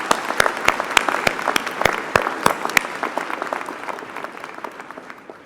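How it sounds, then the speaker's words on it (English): Audience at a college convocation ceremony claps in honor of those on stage. The applause is close and fairly loud with distinct individual claps at first, then gradually thins and fades out. "please join me and others on the stage in a round of applause in their honor"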